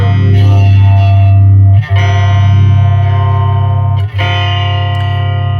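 A 1974 MXR Phase 45 phaser pedal sweeps a sustained distorted guitar tone, loud and close, with a swirling phase movement that rises and falls steadily and two brief dips where the note is re-struck.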